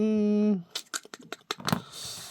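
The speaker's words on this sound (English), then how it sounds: "I'm going to take out my little scissors here and I'm going to cut." Small craft scissors snipping through paper in a series of short, crisp cuts at close range after a brief tone, then a softer rustle.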